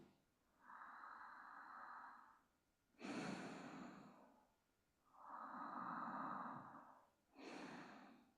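Deep, slow breaths during a forward-bend stretch in a hatha yoga flow: two long breath cycles, each a sustained inhale followed by a breathier, rushing exhale, close and quiet, with no talking.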